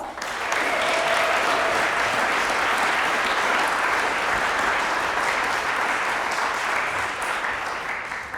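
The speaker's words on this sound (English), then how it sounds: "can we give our intermediate band and orchestra musicians another round of applause?" Audience at a junior high spring concert gives sustained applause for intermediate band and orchestra musicians, a dense, loud wash of clapping that rises quickly and holds steady for about eight seconds.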